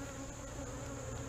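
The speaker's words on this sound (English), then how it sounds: "there's a million more bees" Honey bees buzz densely during a beehive inspection, a close, steady droning swarm with a constant pitch and no voices.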